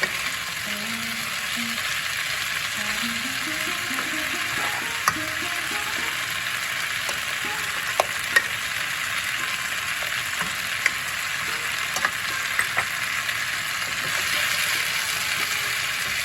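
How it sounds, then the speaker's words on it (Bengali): A pan of pui, kalmi and red shaak fries down dry on high heat with a continuous bright sizzle, and occasional sharp ticks and scrapes come from stirring. "শাকটা এখন একটু ভাজা ভাজা করি, কোনো জল থাকলে সেটা শুকিয়ে ফেলি।"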